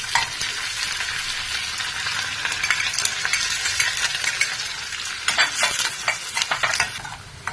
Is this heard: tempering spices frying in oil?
yes